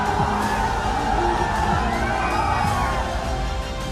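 A dense crowd cheers and shouts continuously at a Samajwadi Party rally in Jaunpur, loud and close, with whoops and raised voices blending into a steady roar.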